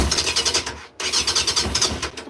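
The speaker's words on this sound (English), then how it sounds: "The engine runs." An engine is started up, giving a loud, rhythmic chugging pulse that cuts out for a moment and then resumes at the same steady beat.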